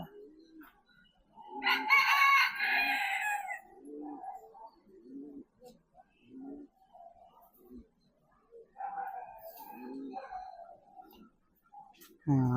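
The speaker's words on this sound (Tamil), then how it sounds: "இதுதாங்க பார்த்தா போந்தா கோழி மாதிரி இருக்கு." A chicken at a bird park gives a loud harmonic crowing call, then quieter clucks and calls among other birds, while people talk nearby.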